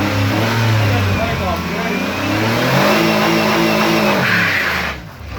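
A car engine revving hard with tires spinning and smoking in a yard, a loud rising and falling roar that runs throughout and dips near the end, with people talking over it.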